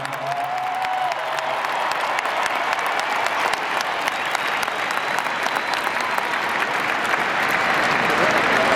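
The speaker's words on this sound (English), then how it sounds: "Let's maybe lift him up with just a little bit of applause" A rodeo crowd at the Houston Livestock Show and Rodeo bull riding finals applauds, loud sustained clapping filling the arena for several seconds, with a faint whistle or voice tone near the start.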